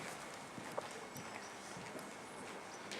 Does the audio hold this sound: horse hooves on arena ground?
yes